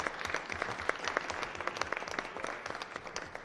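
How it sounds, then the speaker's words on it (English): Applause from the audience at a city Board of Aldermen meeting, steady dense clapping with sharper individual claps popping out, moderately loud and sustained throughout without talk over it. "I would absolutely love to give a round of applause to everyone who's going out."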